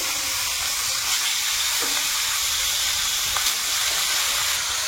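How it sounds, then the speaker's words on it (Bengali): Fish rubbed with turmeric and salt fries in hot oil, giving an even, close hiss of sizzling that holds steady throughout with only faint stray clicks. "মাছটা উল্টে পাল্টে ভেজে নেব।"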